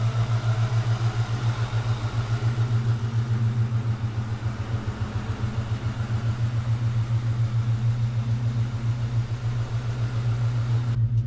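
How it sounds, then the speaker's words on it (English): A Ford Mustang Mach 1 engine runs steadily in the car, a low, even idle with a regular pulsing rumble held at constant level throughout, close by and unaccompanied by talk. "This is the last time that this engine is ever going to run in this car"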